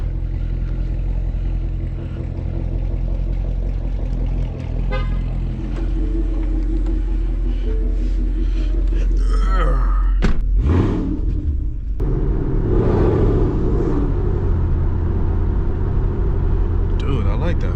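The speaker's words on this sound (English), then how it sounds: "So now he wants me to drive it around and see how it feels" A car fitted with BMR suspension parts driving with a steady low engine rumble from inside the cabin, rising at points with acceleration and some clattering, while people talk over it.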